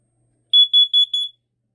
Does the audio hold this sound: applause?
no